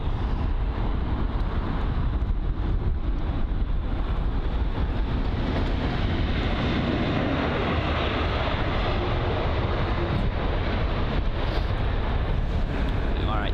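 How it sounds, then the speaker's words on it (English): An All Nippon Airways Boeing 777 taxis at London Heathrow, heard as a steady, loud jet-engine roar mixed with wind buffeting the microphone throughout. "All Nippon Airways, or ANA, with their 777 taxiing right in front of us now"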